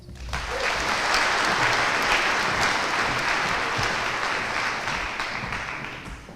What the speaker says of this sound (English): please give a big round of applause to our assistant principal as well as our IB coordinator